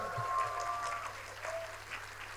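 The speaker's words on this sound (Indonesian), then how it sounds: "Kita ucapkan selamat ulang tahun dan tepuk tangan sekali lagi untuk Pak Pacul" Applause from an audience at a birthday celebration for a 68-year-old man, a short, even patter of clapping that fades slightly toward the end, with no voices over it.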